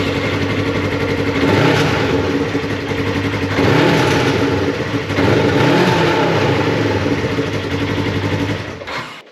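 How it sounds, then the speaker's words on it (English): Polaris RZR 1000XP engine running through its stock muffler, a loud close rumbling drone with a few rising revs before it shuts off at the end. "Let's let you hear it with the stock muffler"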